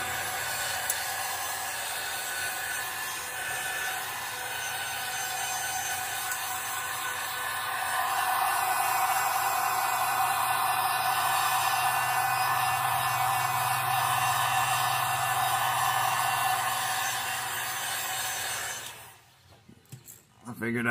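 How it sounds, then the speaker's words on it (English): A shop air compressor runs as a steady, loud broadband roar that swells partway through and cuts off near the end. "the air compressor kicks off right at the very start"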